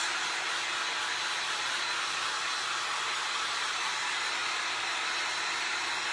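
Steady, close airy rush from a heat tool blowing a cool blast of air with no heat over resin, a constant hiss-like whoosh with no breaks.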